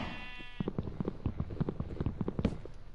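Sheep in the Minecraft video game on PlayStation 4 give short bleats over rapid clicking and tapping game effects, a quick cluttered sequence at moderate loudness.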